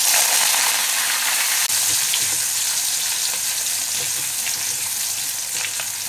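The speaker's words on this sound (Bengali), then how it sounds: "একটু সর্ষে দিচ্ছি ফোড়ন, আর দিচ্ছি একটু জিরে, এগুলো যখন ফুটে আসছে" Mustard and cumin seeds crackling in hot oil with a pinch of asafoetida, a loud, continuous close-up sizzle with faint popping throughout and no voices.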